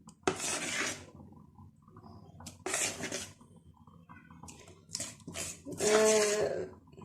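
Cupcake batter being stirred in a bowl with a utensil, made with flour and a spoonful of vinegar: a few bursts of scraping and clinking against the bowl with quiet pauses between, close and moderately loud, no talking.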